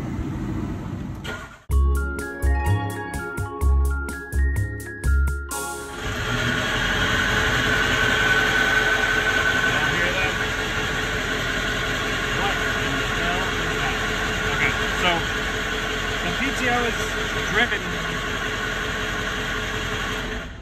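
A vehicle engine cranking with a rhythmic starter chug before catching into a steady idle, accompanied by an unidentified whirring noise from the transmission PTO, close and loud.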